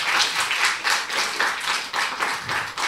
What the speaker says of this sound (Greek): Ένα χειροκρότημα από όσοι το έχουν κάνει